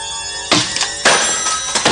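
A telephone rings in short repeated bursts, three electronic rings in quick succession, fairly loud and close.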